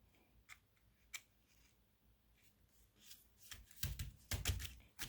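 Adhesive backing peeled off paper for a handmade card: soft crinkles and sharp paper rips, faint at first, then a cluster of louder tearing rustles toward the end.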